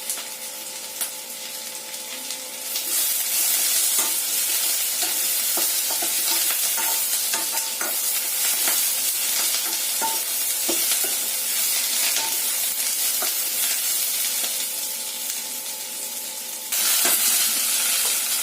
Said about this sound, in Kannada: ಇದು ಎಲ್ಲ ಆನಿಯನ್ ಎಲ್ಲ ಚೆನ್ನಾಗಿ ಫ್ರೈ ಆಗಿದೆ